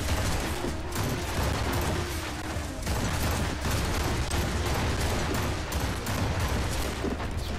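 Dense, continuous gunfire in the video game Assassin's Creed Rogue, a steady rumbling barrage of overlapping shots and booms that never lets up.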